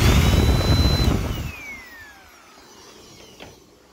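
A Dirt Devil Dynamite Plus vacuum cleaner, just repaired after a rubbing fault, runs with a loud roaring whine and then switches off, its motor pitch falling as it winds down into near quiet.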